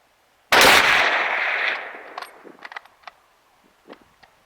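A single 8mm Mauser rifle shot fired outdoors at a car hood 300 yards away cracks sharply and loudly, then rolls into a long fading echo followed by scattered faint clicks and knocks.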